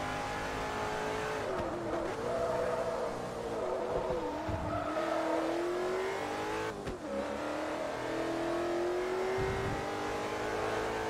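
A race car engine in the Forza Motorsport 3 video game revs loudly and continuously through gear changes, with tires squealing and skidding through the corners and no talking.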